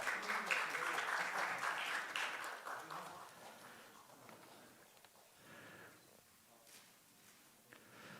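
An audience applauds at an academic award ceremony of the Korean Society for Sport Management, the clapping strongest at first and thinning out over several seconds.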